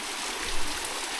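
A small mini waterfall and clear stream at a campsite in Banay-Banay, Davao Oriental, giving a steady broadband rush of flowing, splashing water, fairly close and continuous with no talk.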